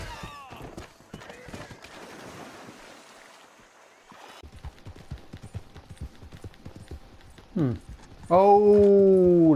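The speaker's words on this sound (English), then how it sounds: "My horse is running underneath the map." A horse running in a video game: rapid clip-clop hoofbeats with water-like whooshing, then a loud whinny at the end, with someone talking over part of it.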